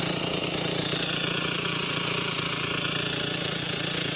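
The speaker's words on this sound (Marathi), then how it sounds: "आता रोटा मारायचं काम चालू आहे" Continuous loud tractor engine drone with a rapid rattling, churning texture from a rotavator tilling a field nearby, steady throughout.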